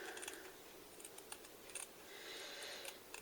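Scissors snip through very thin cotton fabric for covering a button, a few quick light crisp cuts, close and quiet, with no talking.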